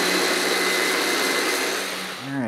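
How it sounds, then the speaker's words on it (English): An immersion blender whirs loudly and steadily as it purées curry paste, then briefly dips and revs back up near the end. "it works with my immersion blender"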